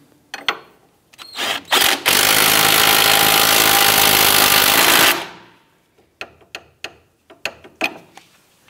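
A power tool drives down the sway bar end link nut at the strut of a 2008-2013 Nissan Rogue, with a few short bursts, then a loud sustained whirring rattle, followed by scattered close metallic clicks.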